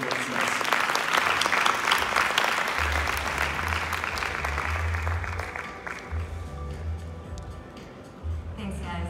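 Audience applause at a cryptocurrency conference panel, loud sustained clapping from the crowd that slowly thins out, with voices talking over the tail end.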